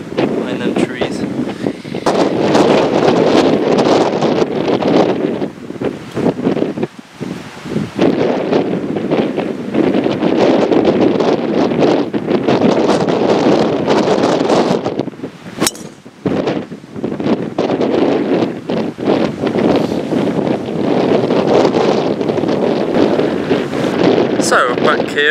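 Strong, loud wind buffets the microphone on a golf course in East Devon, roaring steadily across the whole stretch with short gusty dips and rustling, and no clear speech over it.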